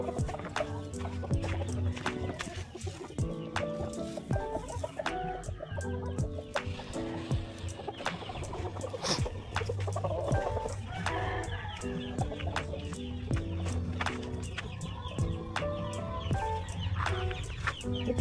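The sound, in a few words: chicks clucking on a farm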